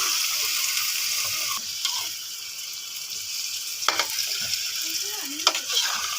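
Mangoes for a mango pickle are stirred and fried in a pan, giving a loud, continuous sizzle broken by a few scraping stirs of the spoon.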